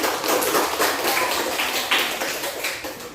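A classroom of students claps for a classmate who has just read a passage in an Indonesian lesson, a dense, even patter of many hands held at steady loudness throughout.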